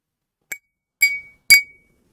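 A glass tapped with a pen three times, each a sharp bright clink with a short ringing tone, the last two louder and ringing longer, with silence between.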